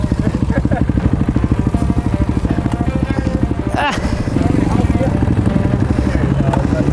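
A 351 motorcycle ridden on a winter trail, its engine thumping in a steady loud pulse close to the mic, briefly dipping and then rising again as the throttle opens.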